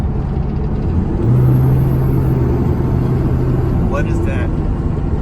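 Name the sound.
Ram 3500 Cummins truck engine noise under throttle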